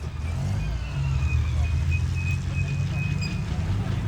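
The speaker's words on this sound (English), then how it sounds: "this is a Scorpion CVRT" A Scorpion CVRT tracked combat reconnaissance vehicle at a tank museum event, a steady low engine rumble with a thin whine above it, continuous and fairly close.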